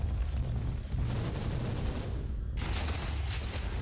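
Chaos Guardian boss in Minecraft FTB OceanBlock firing a loud, continuous rushing barrage of shots that cuts out briefly and resumes, dense and close with no talk.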